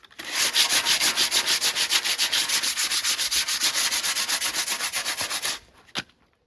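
A rusty metal sculpture is sanded by hand in rapid, rhythmic back-and-forth strokes, a loud close scratchy rasp repeating steadily for about five seconds before stopping, followed by one brief knock.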